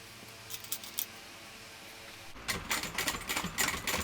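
A sewing machine top stitches a fabric shoulder bag: a few brief whirring bursts first, then a louder, steady run of stitching with short pauses, close and with no voices.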